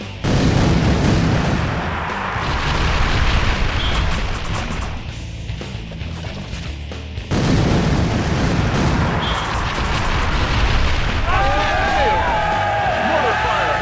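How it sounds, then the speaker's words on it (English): Mortar fire in a Star Wars KOTOR 2 battle pounds as a dense, heavy rumble of explosions, loud and continuous with a brief dip midway, while faint whistling tones drift in near the end. "Mortar fire has destroyed them."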